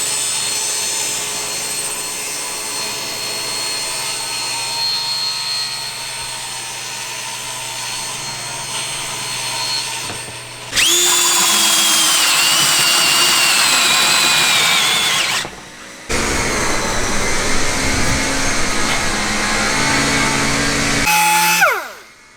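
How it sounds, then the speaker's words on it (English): Large table saw ripping through wood panels for a camper interior buildout, a steady motor whine first, then loud, dense cutting roars in two long bursts with a short gap between. "So we're going to be using a large table saw for that."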